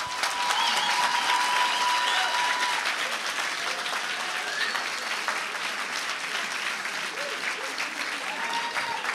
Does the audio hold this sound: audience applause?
yes